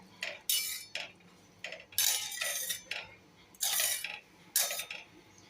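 Vermicelli upma stirred in a pan with a metal spoon: a series of bright, close clinks and scrapes in irregular bursts, roughly one or two per second, with quiet gaps between.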